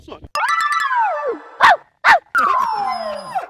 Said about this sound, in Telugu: కుక్కేంటి బ్రదర్ అరుస్తున్నట్టుంది